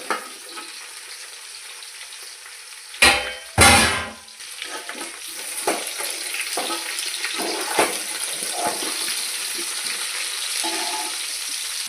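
Bottle gourd pieces sizzle and fry in a pan for sambar, a steady close hiss running throughout, broken by a few louder bursts and clattering stirs early on.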